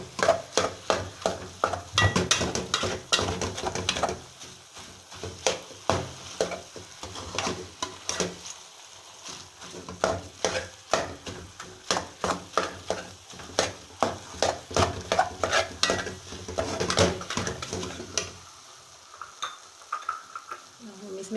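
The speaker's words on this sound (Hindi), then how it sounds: "आपने इसको मुसलसल हिलाना है, इसको छोड़ना नहीं, नीचे लगे ना" A spoon stirs and scrapes Mianwali kamakhandi halwa in a pan, with continuous rhythmic clattering and a soft sizzle through the clip and a brief pause between strokes.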